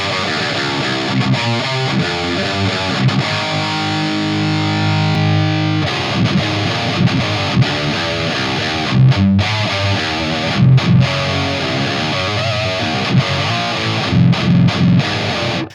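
Heavily distorted electric guitar riffs, loud and aggressive, with chugging palm-muted rhythms and sustained chords through a tight, boxy Bishop 4x12 cabinet impulse response; no voices.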